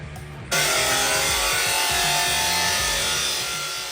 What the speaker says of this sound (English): We'll start with cutting the right length of the first post.